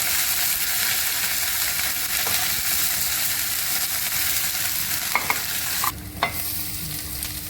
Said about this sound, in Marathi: त्यामध्ये हे अद्रक लसूणची पेस्ट, त्याला चांगलं परतून घ्यायचं